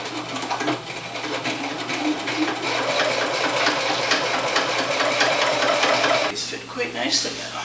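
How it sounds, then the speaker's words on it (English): A sewing machine stitches directly onto a pair of pants, running in a fast, continuous rattling whir close by that slows near the end, with speech over it. "Just going to sew directly onto the garment."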